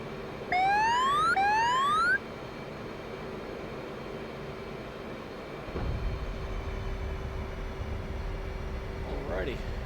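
An F/A-18 Hornet jet in the DCS World flight simulator on landing approach, a steady engine drone with a rising warning tone early on and a rumbling thump later.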